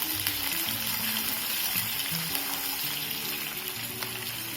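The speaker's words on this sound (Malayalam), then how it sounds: "അതൊന്ന് വഴറ്റി കൊടുത്തതിന് ശേഷം നമുക്കതിലേക്ക് പച്ചമുളക് കൂടെ ആഡ് ചെയ്ത് കൊടുക്കാം" Shallots and green chilies sautéing in a pan for a rice dish, a steady close sizzle and frying crackle running continuously without any voices.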